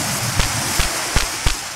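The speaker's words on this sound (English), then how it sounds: "It's raining." Rain falls in the horror video game Imscared as a steady, even hiss, broken by four soft, evenly spaced thumps.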